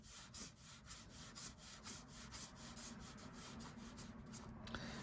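Flat wedge-tip marker skidding and skipping across paper to hatch a sand-dune texture, a quiet run of rapid scratchy strokes in a steady rhythm, close up, with no talking.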